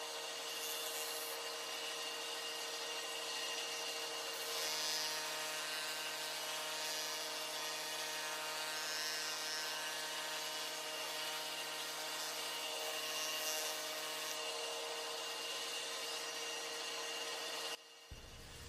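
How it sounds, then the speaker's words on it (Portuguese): A router fitted with a sanding head and 120-grit sandpaper works over Ford car parts, giving a steady, continuous abrasive whir and rub that holds at an even loudness for the whole stretch before cutting off abruptly near the end. "Aí na tupi eu estou utilizando o cabeçote lixador e estou utilizando uma lixa grão 120."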